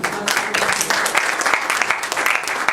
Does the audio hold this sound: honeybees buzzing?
no